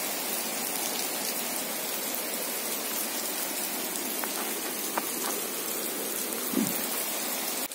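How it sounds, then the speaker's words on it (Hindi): Heavy rain pours steadily outdoors during the first rain of the season, a dense, even hiss of drops striking surfaces with no voices. "अभी बारिश आ गई"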